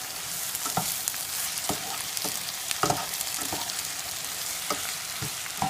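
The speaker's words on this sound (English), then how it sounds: "Now stir in well. And fry the tomatoes" Ripe tomatoes fry with onions in a pot for albondiga soup, a continuous hiss of sizzling broken by several sharp spoon scrapes and taps as they are stirred, close by and without speech.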